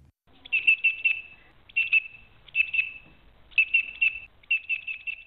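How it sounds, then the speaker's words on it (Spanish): A green grasshopper chirps in several bright, rapid trains of short pulses separated by brief gaps. It is clear and fairly close, with nothing else heard. "Figúrese que existe un saltamontes verde que suena así."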